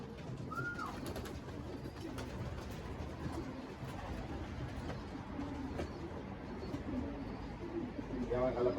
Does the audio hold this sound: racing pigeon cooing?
yes